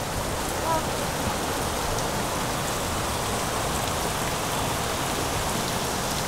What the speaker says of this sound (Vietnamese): À, mưa to lắm này cô bác